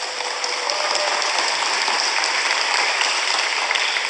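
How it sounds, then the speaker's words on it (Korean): Applause from a church congregation wearing masks, a steady hiss of many hands clapping together at even, fairly loud volume, sounding almost like rain on a surface, with no speech over it. "큰 박수 한번 부탁드립니다"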